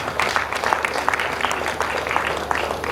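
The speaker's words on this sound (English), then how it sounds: "Just a round of applause for them." Steady applause from a seated audience at an investiture ceremony, continuous clapping of moderate loudness with a faint crowd murmur underneath.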